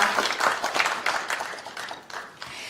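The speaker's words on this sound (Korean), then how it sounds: "다시 한번 큰 박수 부탁드립니다." An audience applauds at a Liberty Korea Party economic advisory team launch event: a short burst of crowd clapping, fairly close and steady, fading slightly after a couple of seconds.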